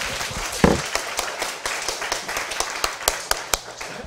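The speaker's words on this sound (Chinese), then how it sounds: "我们应该给他拍手吧" An audience at a Taiwanese law class breaks into scattered clapping, a loose run of sharp individual claps at moderate level with a few louder slaps standing out.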